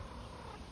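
Backyard chickens purring in a low, continuous rumble that holds steady with a soft background hiss, no voices present.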